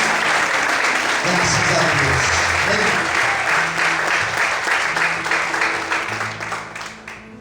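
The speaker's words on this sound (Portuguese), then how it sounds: "Será que você pode aplaudir ao Senhor de forte?" A church congregation applauds loudly for the Lord during a sermon, with steady dense clapping throughout while a pastor's voice and low tones carry over it, tapering slightly at the end.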